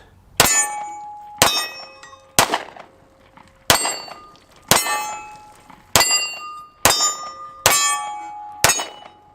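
A Sig Sauer P320 Compact 9mm pistol fires about eight sharp, loud shots at irregular intervals. Each crack is followed by a ringing metallic tail.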